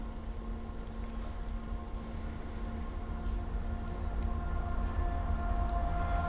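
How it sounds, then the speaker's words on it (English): A steady low rumble with humming tonal drones grows gradually louder as a heavy train in Farming Simulator 15 rolls closer in the distance. "I hear a train."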